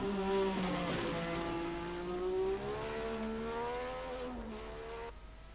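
A Formula 1 car in Assetto Corsa at Bahrain, its shrill engine note rising and falling with quick throttle blips on downshifts, heard from onboard with no talk.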